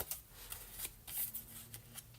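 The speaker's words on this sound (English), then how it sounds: "I'm going to just round them randomly with these scissors" Scissors snip paper to round and nick its corners for Valentine craft ephemera, a run of quick, dry cuts at an irregular pace, close and fairly quiet with no talk.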